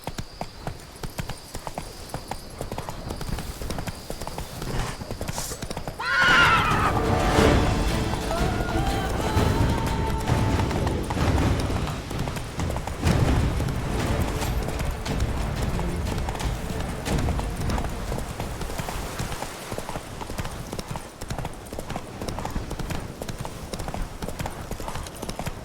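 Roach, a horse in The Witcher 3: Blood and Wine, gallops with a steady, close clip-clop of hooves that starts abruptly and keeps up, with a neigh near the start of the run. Game voices and ambience are heard alongside.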